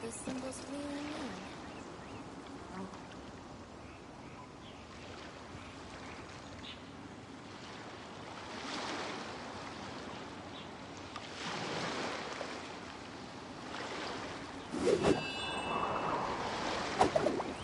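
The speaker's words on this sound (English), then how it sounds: "The sound of the ocean waves." Ocean waves in the video game Genshin Impact roll in as soft, steady surf washes that swell and fade over many seconds, with a few brighter splashes near the end and a voice faintly present.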